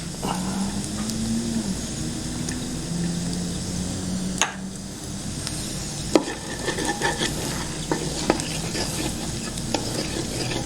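Garlic hits a pan of al dente vegetables, bringing steady sizzling and frying with stirring scrapes and a few sharp utensil knocks against the pan throughout.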